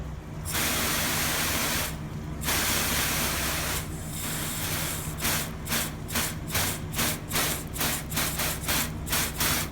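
Steady broadband hiss of water spraying from a hose nozzle on shower setting onto a car, continuous at first, then breaking into quick rhythmic bursts as the stream is waved back and forth.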